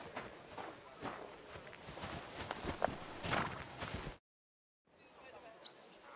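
Horse hooves clopping at a walk in Kingdom Come: Deliverance II, a soft rhythmic series of steps under a voice, then a brief silence before faint sound resumes.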